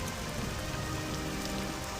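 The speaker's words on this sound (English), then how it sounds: "Although I'm going to get wet regardless, due to the rain that is present." Steady rain falling in The Elder Scrolls III: Morrowind, a dense, even hiss of drops hitting surfaces that holds constant throughout with no voices.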